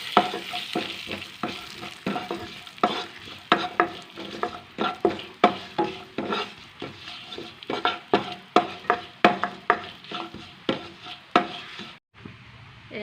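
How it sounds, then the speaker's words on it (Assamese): Cumin, bay leaves, cloves, cardamom and cinnamon frying in oil for jeera rice, a soft sizzle under a rhythmic run of spatula scrapes and taps against the pan, close by, ending abruptly. "এয়া মই অকণমান ভাজি লওঁ।"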